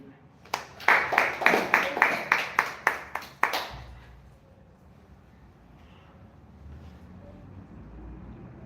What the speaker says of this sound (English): put your hands together and a big clap for Ankit